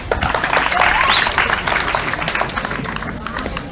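A school audience claps at a swearing-in ceremony, a dense, steady patter of many hands with crowd murmur underneath, fairly close and sustained throughout.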